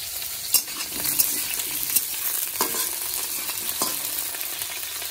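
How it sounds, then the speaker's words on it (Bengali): Potato pieces fry in hot oil ahead of a fish curry with bitter gourd, a steady loud sizzle broken by periodic scraping stirs and clinks of a spatula. "এদিকে মাছের তরকারি করার জন্য এই যে আলুগুলো ভেজে নিচ্ছি।"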